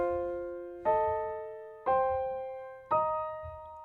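A jazz piano plays a dominant arpeggio in octave and tritone voicings, giving a chime-like ring: four clear struck chords about a second apart, each ringing and decaying, played alone with no talk.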